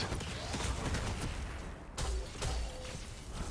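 Hand cannon gunfire in the video game Destiny 2, dense rapid shots blending into a loud, busy wash of combat noise with short pops and bursts throughout.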